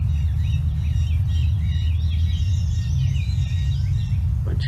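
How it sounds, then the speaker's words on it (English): Harsh calls from a flock of jays passing overhead during a Saturday morning birding walk, several calls overlapping at moderate distance over a low rumble of background noise, with other birdsong faintly around. "Bunch of jays flying over."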